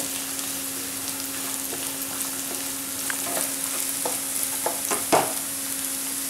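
Coconut pieces sautéing in a pan for a liver fry, a steady close sizzle with scattered spatula scrapes and taps that grow busier toward the end.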